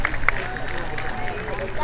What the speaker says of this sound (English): Let's give a big round of applause for our senior attendant.